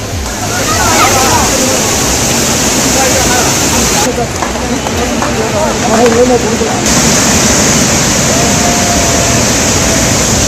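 Hogenakkal waterfall with tourists bathing, a loud continuous roar of falling water that fills the whole scene, steady and close with sloshing and splashing throughout.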